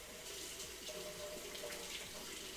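A kitchen sink tap runs steadily, a close, continuous hiss and splash of water pouring into the basin without pause.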